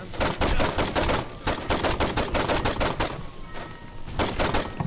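Rapid, loud automatic gunfire in a video game, dense bursts of shots rattling continuously with brief gaps, close and dominant.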